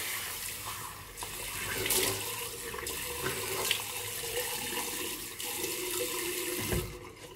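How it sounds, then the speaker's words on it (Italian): Tap water runs steadily into a sink as a man rinses his face after a shave, a continuous close splashing wash with small bumps and spatters throughout. "Sciacquo il viso."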